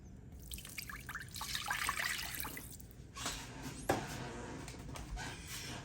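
Tap water poured into a container for au jus mix, a close, steady trickle and splash that swells and fades over several seconds.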